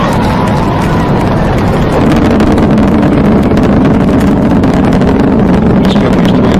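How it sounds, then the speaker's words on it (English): Space Shuttle Discovery lifts off on a mission back to the space station, its engines giving a loud, steady, broadband roar that holds without a break and swells slightly partway through. "liftoff of the Space Shuttle Discovery, returning to the space station"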